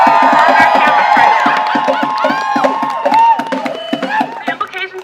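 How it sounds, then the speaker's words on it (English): A crowd at the Million Student March in 2015 cheers and shouts loudly in rhythmic bursts, with voices rising and falling close by. "So please cheer for the students in Mississippi who are fighting for on their campus right"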